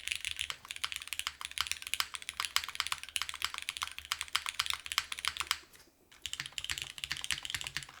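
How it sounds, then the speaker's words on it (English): Fingers type steadily and quickly on a beefy-sounding mechanical keyboard, producing dense close clacks with a brief pause near the end before the typing resumes; no one speaks. "That's definitely a more like beefier keyboard."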